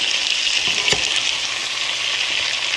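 Potatoes frying in a shallow layer of oil in a pan: a steady, bright sizzle that stays close and even throughout, with a faint stir or shift partway through.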